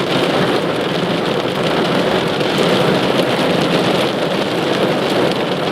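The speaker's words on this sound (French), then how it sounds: "Je sais pas si vous l'entendez, l'orage claquer, mais c'est fou." Heavy rain pours steadily and loudly on a car during a thunderstorm, with rumbling thunder rolling underneath; no voices, just a dense continuous roar close by.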